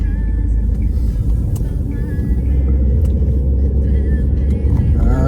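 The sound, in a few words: car driving through Belgrade streets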